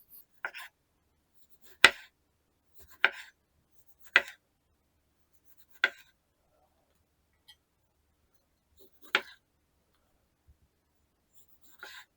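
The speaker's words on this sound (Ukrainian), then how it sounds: "Спочатку відрізаю хвостик і нарізаю кілечками." Sharp knife strokes slicing tomatoes into rings on a cutting board, about six distinct chops spaced unevenly with quiet pauses between them.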